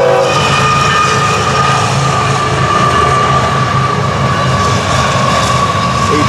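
FEC train 210 rolls through a railway work zone, a loud, continuous rumble of wheels and cars close by, with rail squeal and steady clatter throughout.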